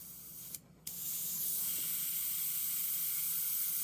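A water sprayer hisses steadily close by over a pastel painting, cut off briefly by a short pause, then continuing evenly for several seconds.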